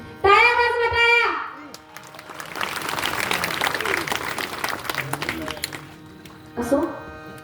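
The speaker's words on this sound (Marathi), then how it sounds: "जोरदार टाळ्या वाजवा" An audience at a kirtan breaks into a few seconds of dense, sustained clapping, with a voice speaking just before the applause and again as it fades.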